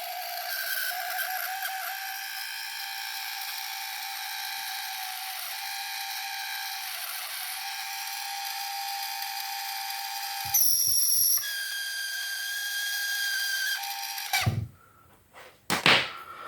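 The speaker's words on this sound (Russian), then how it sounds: "Мотор работает, но только свистит." The motor of a 12 kW electromechanical voltage stabilizer runs on 12 volts from a bench power supply, giving a steady high whine with a shrill whistle, then a few clicks and clunks near the end.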